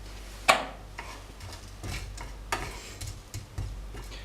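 Coriander seeds dry-roasting in a very hot pan with no oil or butter, sparse ticking and light crackling pops at irregular intervals, one sharper click near the start.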